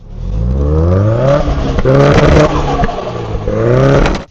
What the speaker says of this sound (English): Try turning the car on again.